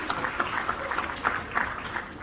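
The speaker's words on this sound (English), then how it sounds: "Give them a good round of applause" A small audience at a magic and music show claps steadily for a couple of seconds, soft and somewhat distant, with a few voices mixed in.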